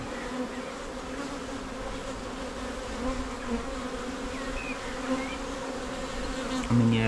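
Honey bees buzz in a dense, steady drone around an opened hive during an inspection after a swarm, a close, continuous hum with occasional louder passes near the ear.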